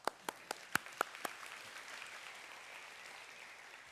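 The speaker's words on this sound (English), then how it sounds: "I would like to give you a round of applause" An audience at a Google Developer Day 2010 keynote in Japan claps: a few sharp, separate claps open, then a soft, distant wash of applause carries on quietly.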